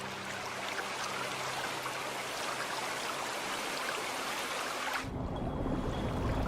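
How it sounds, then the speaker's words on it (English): Torrential rain pours steadily over the Danube delta wetlands, a dense continuous hiss close by with no voices. "The downpour can be torrential."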